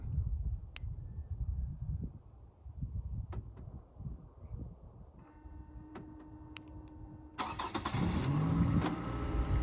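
Faint ticks and a low rumble give way to a 2012 Toyota RAV4 engine turning over by remote start and catching, settling into a steady running drone at the end.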